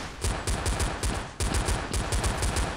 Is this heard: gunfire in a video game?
yes